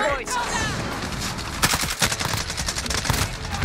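Rapid automatic gunfire from a Season 6 AMAX rifle in Modern Warfare rattles through dense bursts, with a sharper, louder volley around the middle, set against continuous game ambience and a voice talking over it.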